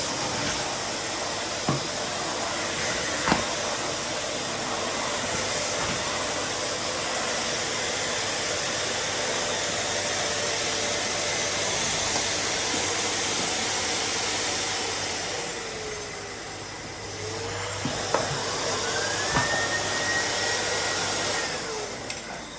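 A Sebo Airbelt D2 Storm Eco vacuum cleaner sucks up toenail clippings. A loud, steady motor roar drones close throughout, easing briefly midway with a faint rising whine near the end.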